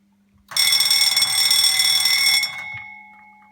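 An electric alarm bell triggered by a PLC timer rings loudly and continuously for about two seconds, then stops, leaving a faint lingering tone behind a low hum.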